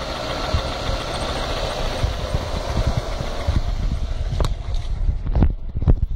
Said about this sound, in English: I will switch off the engine.